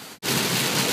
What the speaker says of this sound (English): Hey, look at this, it's finally raining.